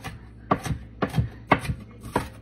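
A knife chops onions on a cutting board for pico de gallo, making a steady series of crisp, close cuts, about two per half second, with no talking.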